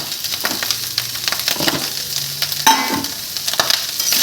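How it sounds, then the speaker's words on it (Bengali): Ingredients for vegetable biryani fry in a pan, with a constant close sizzle broken by stirring clatters and a brief metallic clink partway through. "সব উপকরণগুলো দিয়ে দিলাম দিয়ে এবার এটাকে ফ্রাই হবে ফ্রাই"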